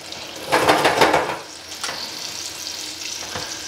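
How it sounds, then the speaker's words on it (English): Batter-coated pear wedges fry in a pan, opening with a loud close burst of sizzling and bubbling as a piece goes in, then settling into a quieter steady hiss with a faint stir or clink. "So we put 1 pear wedge in, move it around a little bit to make sure that the batter is starting to cook before we add another piece"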